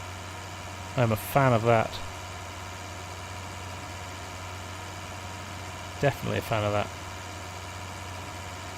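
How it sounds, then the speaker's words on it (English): A tractor engine idles in Farming Simulator 19 with a steady, low mechanical hum that runs throughout, while someone talks briefly over it twice. "That is a lovely engine sound."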